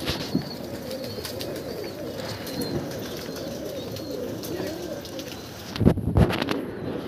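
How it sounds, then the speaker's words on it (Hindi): Domestic pigeons from a fancier's flock, trained for flying practice, coo steadily in the background, then a short cluster of wing flaps bursts out close by near the end as birds take off. "और जी ये जा रहे जी कबूतर भाइयों।"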